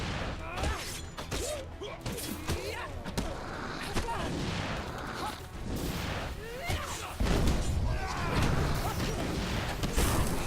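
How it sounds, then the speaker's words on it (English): Explosions go off in the action video game Hand of Fate 2: dense, continuous booms, blasts and clashing combat noise layered on top of each other. A player talks over the din. "So many explosions."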